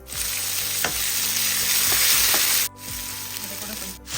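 Onions fry in oil in a pan for beetroot kulambu, a dense continuous sizzle with occasional stirring scrapes, close and loud, with no talking.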